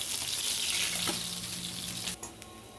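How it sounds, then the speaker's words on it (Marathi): Fish pieces frying in oil make a continuous close sizzle, with a few brief clinks and scrapes near the end as pieces are lifted out of the pan. "माझी मच्छी फ्राय झालेली आहे. एक एक करून काढून घेते."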